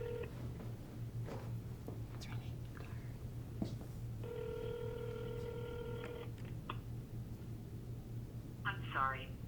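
A telephone being dialed to place a call, with short beeping tones followed by a steady electronic ring or tone, over a constant low hum and background noise, moderately close.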